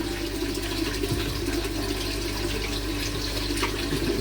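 Water pours steadily into a garden pond as it is topped up, a continuous close rushing and splashing flow that holds level throughout with no voices.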